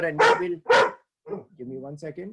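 Two loud, close barks from a female pet dog ring out in quick succession, followed by someone speaking briefly.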